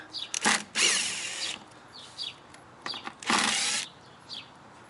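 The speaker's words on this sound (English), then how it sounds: "We're going to need a Torx bit to get these fasteners out." A power drill fitted with a Torx bit backs out rear valence fasteners on an Alfa Romeo Stelvio Ti Sport, with short close whirring bursts separated by quiet pauses and light handling noises.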